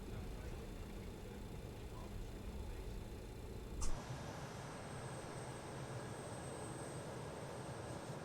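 A BAE 146-300 jet taxis in Microsoft Flight Simulator, its engines a steady droning whine with a faint brief click midway, after which the engine tone thins and a high whistle continues.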